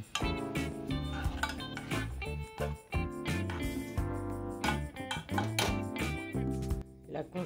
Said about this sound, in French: Et ensuite, je mélange.